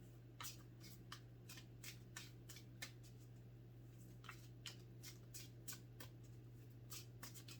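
Tarot cards being shuffled by hand give faint, repeated papery riffling clicks in irregular bursts over a steady low background hum.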